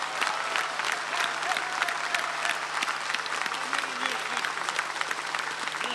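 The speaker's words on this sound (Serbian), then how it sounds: "molim vas, jedan aplauz." Studio audience applauding for Esma on a Serbian television show, a steady, dense clapping that fills the room evenly for the whole stretch without letting up.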